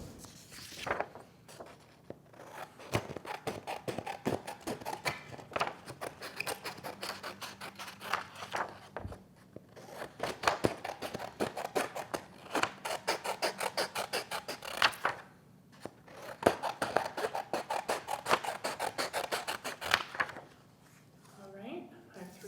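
Scissors cutting strips of yellow paper for a colorful garland craft, rapid snipping in three long bursts separated by brief pauses, close and fairly quiet.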